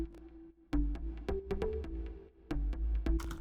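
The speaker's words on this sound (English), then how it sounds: "You want to get another organ, the exact same pattern, and just put it one octave below." Two layered organ parts in FL Studio play a bassline beat, the second doubling the same pattern an octave lower, giving deep rhythmic chord stabs with brief gaps, loud and unaccompanied by speech.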